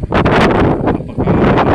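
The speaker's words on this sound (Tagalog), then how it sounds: "papahangin lang ako dito sa labas, lakas ng hangin." Strong wind buffets the microphone outdoors, a loud continuous roaring rush with gusty surges and a brief dip near the middle.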